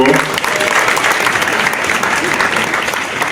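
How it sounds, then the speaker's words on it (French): Loud, sustained applause from a large crowd at an official ceremony, dense and steady throughout with a voice briefly audible at the start. "que je vous demande d'applaudir bien fort"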